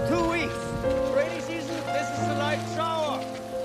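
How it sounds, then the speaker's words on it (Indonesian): Rain falls steadily during a trek through the Amazon jungle, a soft, even patter heard faintly beneath prominent narration and tonal background music. "mereka melanjutkan perjalanan di tengah hujan"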